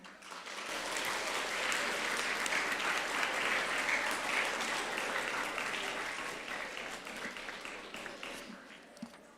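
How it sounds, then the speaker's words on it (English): Steady, dense applause from a school assembly audience fills the room, sustained at full strength for most of the stretch before thinning out near the end. "Now you could applaud."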